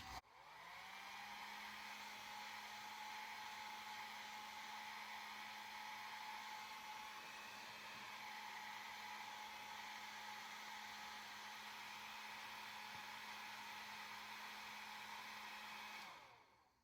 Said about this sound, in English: just use your hairdryer, warm up the label.